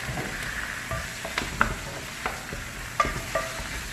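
Chicken wings go into a pan of adobo sitaw and fry with a soft, continuous sizzle, broken by scraping stirs and a few sharp clinks of a utensil against the pan.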